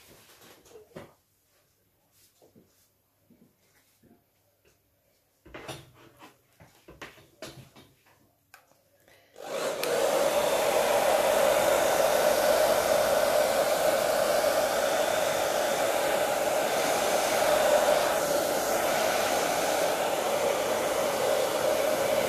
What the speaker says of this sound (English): I will put the hairdryer on it